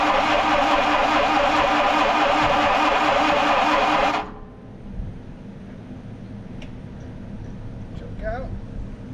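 A 1930 Ford Model A engine runs with a loud, steady, busy mechanical clatter for about four seconds, then cuts off abruptly, leaving quiet room noise with a few faint knocks.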